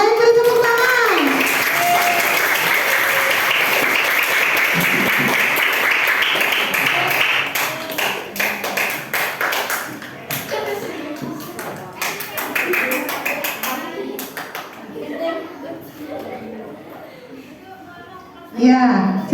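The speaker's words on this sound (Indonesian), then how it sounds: "yang lain beri tepuk tangan" Students in a classroom clap for the yellow group, a burst of applause that thins into scattered claps mixed with chatter and voices, ending with a short loud knock.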